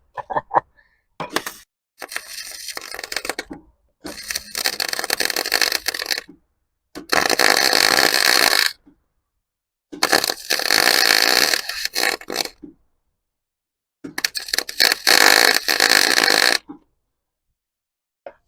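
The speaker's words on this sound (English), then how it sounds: "Aluminium welding is hard." Aluminium welding on a BMW hot rod, loud crackling bursts of arc noise in five separate runs of one to two seconds each, broken by silent pauses.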